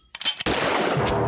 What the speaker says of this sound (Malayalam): ആകാശത്തേക്ക് വെടിവെക്ക് സാറേ, വെടിവെക്ക്.